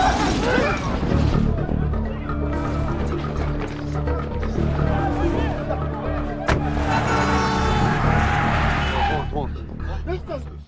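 A car blows up in a parking lot in a gangster film scene. A dense, loud crash and roaring burst carries on as layered noise with a sharp crack midway, alongside music and voices.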